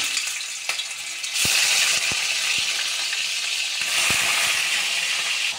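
Chicken pieces frying in hot oil in a kadai, with a loud continuous sizzle that swells as the pieces go in and a few sharp clinks of a utensil against the pan, close up and without talk.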